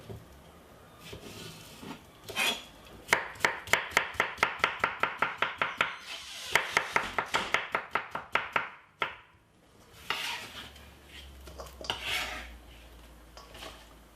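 A knife chops cucumber on a board in a fast, steady run of crisp strokes that pauses and then resumes, close and clear with no talking.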